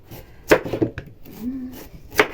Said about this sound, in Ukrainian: ще морку покришимо.